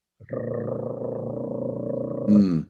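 A person imitates a cat's purr with a low, rumbling, continuous vocal growl, close and steady, ending in a brief louder burst.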